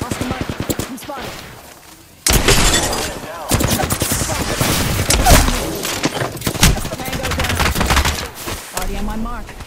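Dense, rapid gunfire in Apex Legends, with loud bursts and volleys crackling almost nonstop after a short lull, close and aggressive, mixed with game voices and effects.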